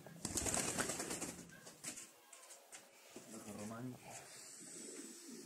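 Low cooing of King and Mini King pigeons close by, with a burst of wing flapping and rustling, while a person speaks intermittently.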